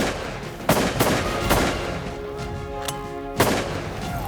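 Shotgun blasts during waterfowl hunting in Saskatchewan, five or so sharp, loud booming shots at uneven intervals with a pause in the middle, near and outdoors.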